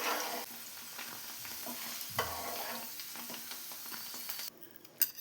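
Drumsticks (moringa pods) fry in a pan with a steady soft sizzle and occasional scraping stirs, fairly quiet and close, with no talking.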